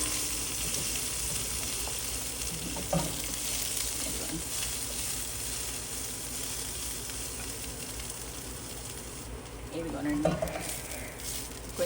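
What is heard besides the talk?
green chilli paste frying in a pan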